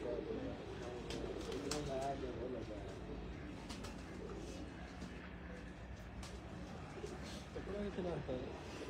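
Pigeons coo in low repeated rolls near the start and again near the end, over a steady background bustle and a person talking, at a loft of bloodline pigeons.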